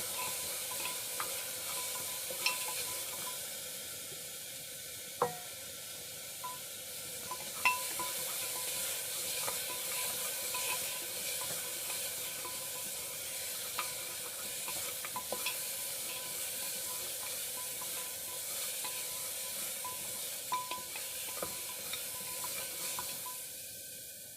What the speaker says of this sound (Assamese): এতিয়া মই অকণমান সময় মিহলাই ল'ম।